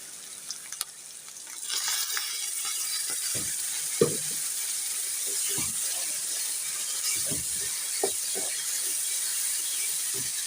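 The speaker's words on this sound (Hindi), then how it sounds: "अब हम हल्का सा प्याज जो है वो इसको बहुत ब्राउन नहीं करेंगे, लाइट सा इसको तलेंगे।" Onion fries lightly with a spice paste, giving a steady, even hiss that fills the pan, with a few scattered knocks and scrapes as it is stirred.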